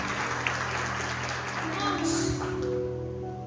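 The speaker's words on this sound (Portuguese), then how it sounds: "Pode celebrar ao Senhor com as suas palmas." Church congregation clapping along in a worship service, a steady wash of many hands under sustained music tones and some voices.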